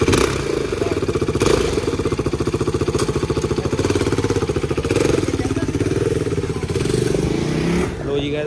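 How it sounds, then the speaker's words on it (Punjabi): A KTM RC 390 motorcycle engine runs on a test ride outside a shop, a loud, close, steady rapid single-cylinder thrum with small swells in revs and a voice briefly over the top. "ਇੰਜਨ ਜਿਹੜੀ ਆਵਾਜ਼ ਜ਼ਿਆਦਾ ਕਰਦਾ।"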